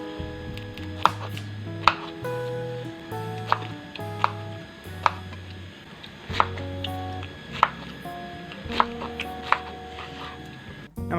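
A knife chops pineapple on a board at home, roughly a dozen sharp, distinct cuts at an uneven unhurried pace, close and fairly loud over a low steady hum.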